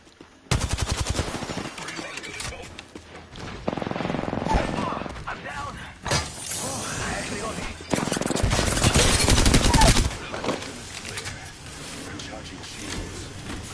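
Rapid automatic gunfire in a battle royale shooter, loud bursts and sustained volleys stacking over each other across the clip, with game effects and voices mixed in.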